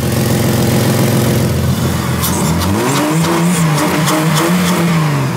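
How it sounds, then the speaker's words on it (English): A Ford AU Falcon engine with an exhaust leak runs loud and rough, its pitch climbing as it revs, with a raspy, sputtering exhaust note throughout. "Oh, the exhaust leak"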